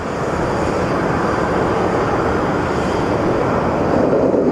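An American Airlines airliner at Phoenix Sky Harbor airport, a broad, steady, loud jet engine roar that holds evenly throughout with no talk.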